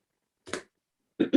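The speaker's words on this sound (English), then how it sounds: "excuse me, I have a cough" Short coughs in a quiet meeting room: one brief cough, a pause, then two quick coughs close together, near and fairly loud.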